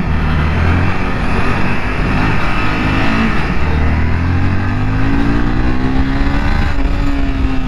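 A Honda CBR 250 motorcycle engine revs and pulls continuously while being ridden, a loud, close, sustained drone with rising tones and no speech.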